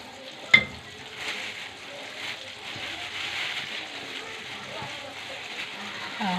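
Flour toasting in a pan and stirred with a spoon, a soft steady sizzle with faint scraping and a brief clink near the start, under a quiet voice.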